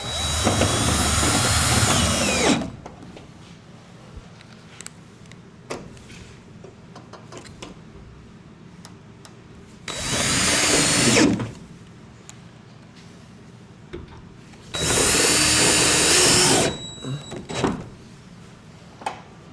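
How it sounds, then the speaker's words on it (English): A power drill drives screws at an angle through a solar mounting bracket into a metal roof purlin, producing three loud, close whirring bursts of a couple of seconds each, separated by quieter handling noise. "you install those screws at an angle so that they go into the purlin"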